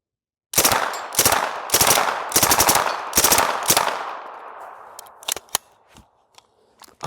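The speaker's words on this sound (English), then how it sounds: "We're gonna see how this guy holds up some fully automatic fire." Fully automatic fire through a SilencerCo Omega 9K suppressor: five or six loud, rapid bursts in a steady rhythm, then a few sharp single cracks and clicks trailing off, with no voices.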